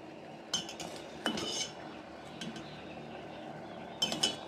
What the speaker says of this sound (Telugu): నూడిల్స్ని మనం సాస్లోకి వేసేద్దాం.